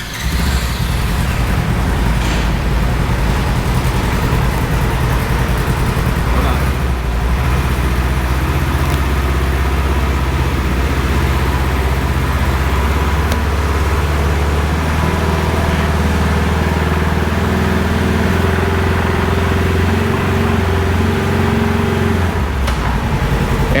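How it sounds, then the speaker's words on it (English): Car engine running steadily while it lifts a UTV off the ground at a camp, a loud, continuous low rumble that holds without a break and with no talk over it. "come over here, Chase, so you can actually see the car come off the ground."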